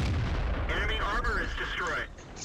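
Panther (Pz V) tank cannon firing in World of Tanks, a heavy booming shot with rumbling low-end decay, and a second sharper report near the end, mixed with game sound effects.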